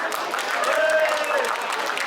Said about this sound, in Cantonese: 希望大家俾啲熱烈嘅掌聲鼓勵